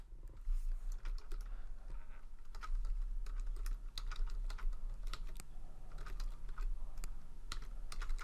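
Typing on a computer keyboard, a steady run of quick, soft key clicks over a low hum, close and fairly quiet, with no voices.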